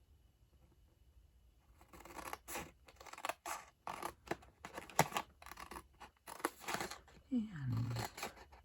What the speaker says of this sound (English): oh, I started cutting at an angle before I cut it.